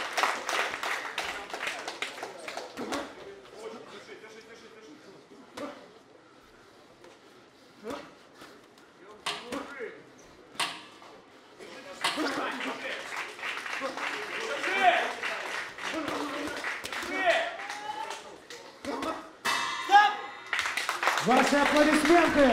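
Spectators at a boxing match clap in scattered bursts that grow denser and louder toward the end, mixed with an announcer's amplified voice echoing through the arena.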